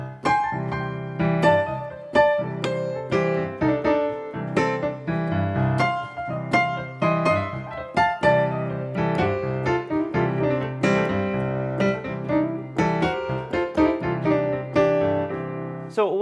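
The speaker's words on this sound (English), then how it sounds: "scale number 4 is the super bluesy scale. If you were to improvise with this scale, it's called the Mixo-Blues scale." An electric guitar runs a Mixo-Blues scale improvisation, a quick stream of picked single notes in a lively, uneven rhythm, close and clear with no talking.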